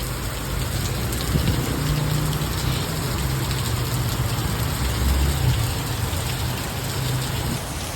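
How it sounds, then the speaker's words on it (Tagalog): Heavy rain pours outside a small shop in a steady, dense roar, loud and unbroken throughout, with no voices. "Ito, malakas yung ulan."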